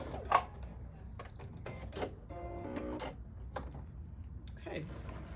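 A sewing machine stitches along a marked line on a quilt sampler block. A short mechanical whirring run and clicks and clunks of the machine sound close in a quiet room.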